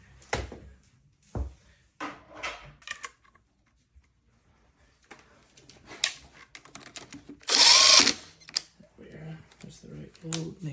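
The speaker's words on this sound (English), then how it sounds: "You're gonna wanna come undo that stem bolt there." A power tool spins out a stem bolt on a Surron Light Bee X electric bike in a brief loud whirring burst, amid scattered clicks and clunks, with a person talking nearby.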